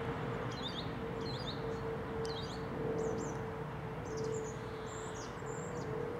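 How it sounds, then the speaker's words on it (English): A song thrush sings on a late-winter walk between Hayes and Knockholt near London, short repeated phrases of bright notes at regular intervals, fairly distant over a steady low rumble and a constant hum. "As I leave you with that song thrush."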